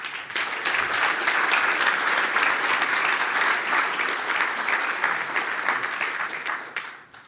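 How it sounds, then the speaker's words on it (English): A conference audience at a Python developer event applauds a keynote, with loud, dense clapping sustained throughout before fading out at the end. "a big round of applause for the last keynote of the event"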